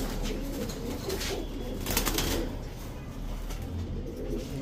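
Pigeons at a bustling pigeon market, including cream-eyed birds and Pakistani Kaldom pigeons, cooing and rustling in a steady, dense wash of noise with no one speaking.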